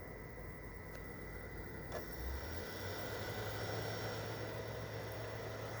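A steady, loud whooshing fan roar with a constant hum from an original fat Xbox 360 console, like a small jet engine, running without a break.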